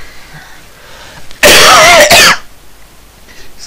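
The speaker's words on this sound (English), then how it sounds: "excuse the cough" A single loud, harsh cough bursts out close to the microphone during live game commentary on Team Fortress 2, lasting about a second, surrounded by quiet room tone.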